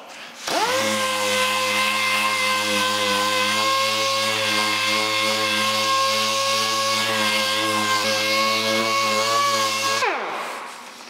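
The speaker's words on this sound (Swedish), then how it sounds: "men vi ska slipa grunden. Jag slipar över detta lite nätt här." A power sander sanding primer on a car panel whirs steadily at high speed for about ten seconds, loud and close, then winds down to a stop.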